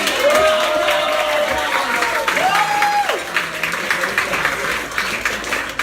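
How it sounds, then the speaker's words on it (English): A crowd applauds for Kathy at a Republican voter registration drive outdoors, a steady wash of clapping lasting several seconds with faint tonal sounds passing underneath. "Can I get a round of applause for Kathy?"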